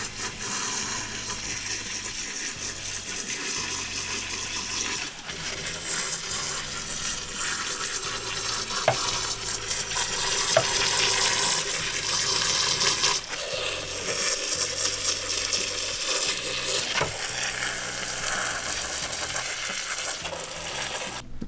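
Water poured steadily from a watering can onto potted houseplants, a continuous close splashing and trickling that runs for about twenty seconds with slight changes in intensity.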